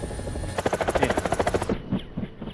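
A helicopter's rotor in the video game War Thunder chops in a fast, steady rhythm up close, then the sound drops away abruptly and thins out.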